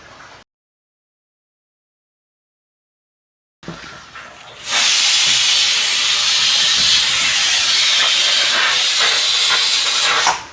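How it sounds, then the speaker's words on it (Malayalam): A pressure cooker cooking coconut sambar at home: after silence and a low murmur, steam bursts out in a loud, steady, sustained hiss that holds for several seconds before cutting off. "ഒരു സ്റ്റീം വന്ന് ഞാൻ ഓഫാക്കിയിട്ടുണ്ട്"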